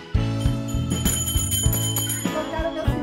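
A small bell rings in quick, evenly spaced strikes, each leaving a bright tinkling tone under a steady higher shimmer. The ringing is close and continuous throughout.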